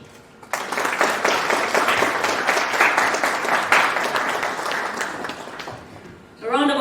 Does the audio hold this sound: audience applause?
yes